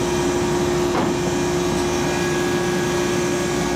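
A sand bead blaster runs as a steady, loud, broadband hiss of blasting air with a constant hum beneath it, continuous and close, with no break through the whole stretch.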